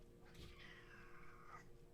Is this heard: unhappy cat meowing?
yes